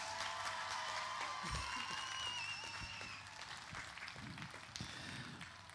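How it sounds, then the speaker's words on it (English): An audience applauds a school choir at a massed sing event, steady clapping of a large crowd with scattered sharper claps, fairly faint and distant. "Let's give them a big round of applause,"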